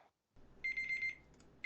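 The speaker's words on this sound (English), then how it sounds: "as you can hear my timer going off" A countdown timer alarm goes off with close, steady electronic beeping that runs in a sustained burst, pauses briefly, then starts again, with no one talking.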